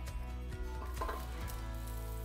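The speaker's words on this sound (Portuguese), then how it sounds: "Na mesma panela que eu dourei a castanha, eu vou adicionar a colher de manteiga" Butter melting and sizzling in a pan that just toasted chestnuts, a steady soft frying hiss with faint clinks, heard alone without talk.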